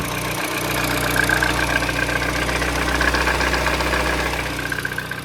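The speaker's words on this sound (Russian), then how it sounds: "Двигатель потихонечку прогревается, работает уже тише." A Peugeot 208 1.6 petrol engine idles steadily while warming up, a constant low rumble with a faint ticking clatter, close by and uninterrupted.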